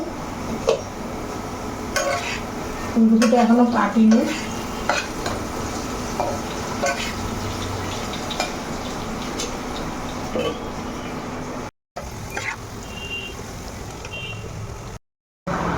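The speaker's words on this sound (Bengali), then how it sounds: "এখানে একটু আলু ভাজা হচ্ছে" Potatoes fry in a pan in a home kitchen with a low steady sizzle, broken by a spoon scraping and stirring against the metal and the odd clink of utensils, while a voice speaks briefly.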